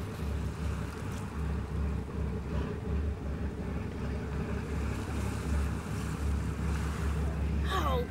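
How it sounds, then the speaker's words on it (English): A lifeboat's engines churn up the sea, a loud, continuous rumbling wash of water and wind noise, with a brief squeaky animal-like call near the end. "Oh, the engines are making the water all churn up."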